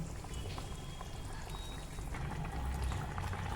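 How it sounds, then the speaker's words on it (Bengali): Water poured into a pan of simmering malai kofta gravy, a soft continuous splashing and bubbling, faint and close, running steadily for a few seconds. "আর একটু জল আমি দিয়ে দিচ্ছি"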